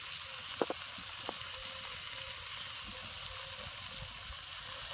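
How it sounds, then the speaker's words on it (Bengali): Onion and tomato frying together in a pan, a soft continuous sizzle with a few sharp clinks of a utensil near the start, quiet and without voices. "একটু নাড়াচাড়া করে নিলাম পেঁয়াজ টমেটো ফোড়ন দেওয়ার পর।"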